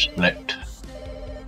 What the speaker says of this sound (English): we've already got the phone ringing